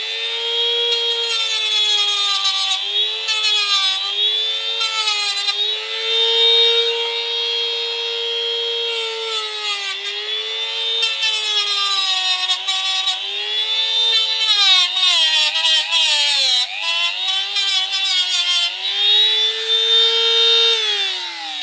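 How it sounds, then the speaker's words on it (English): Dremel rotary tool grinding away bonsai roots while repotting a weigela, a close high whine that dips and rises in pitch as it bites into the wood, running continuously for over twenty seconds. "And I'll tidy all those up with a Dremel tool."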